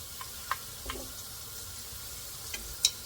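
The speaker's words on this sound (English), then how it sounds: "when these are cooking, the grease won't be popping everywhere all over my stove" Shrimp egg rolls fry in hot grease on a stove with a low constant sizzle and scattered sharp pops and crackles, one louder pop near the end; no one speaks.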